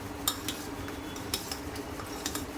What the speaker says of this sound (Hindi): यहाँ पे इस तरीके से सारी चाशनियों में हमें इसको मिक्स कर देना है